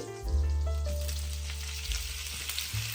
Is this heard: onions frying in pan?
yes